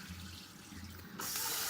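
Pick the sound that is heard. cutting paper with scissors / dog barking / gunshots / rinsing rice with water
rinsing rice with water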